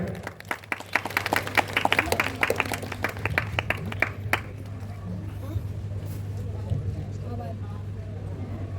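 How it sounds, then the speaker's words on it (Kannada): Audience clapping for a felicitation at a Tulu play, a burst of scattered hand claps in the first half that fades out, with a low steady hum beneath and a voice speaking. "ಸನ್ಮಾನ ಮಾಡೋದು ಜೋರಾಗಿ ಚಪ್ಪಾಳೆ."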